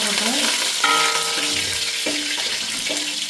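Onion and green chillies, with curry leaves, frying in a pan: a loud, continuous close sizzle with some faint tonal ringing and no speech.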